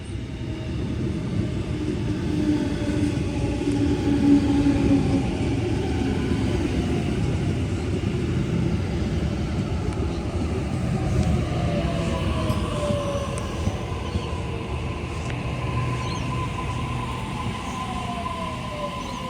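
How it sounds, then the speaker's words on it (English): A Sydney Trains B13 suburban service on the City Circle all-stations run gives a continuous low rumble with rising and falling motor whine, steady and close as if heard from inside the carriage. "here is my train, B13, off to the city circle, all stations"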